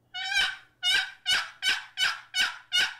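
A cherry-and-walnut turkey box call makes the high, sharp yelps of a young hen: seven evenly spaced, loud, raspy notes in a steady rhythm, close and alone with no talking.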